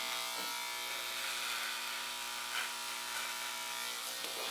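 Electric clippers buzz steadily and close up while shaving a man's hair during a home fade touch-up, with a constant high whine and slight shifts as the blade moves through the hair.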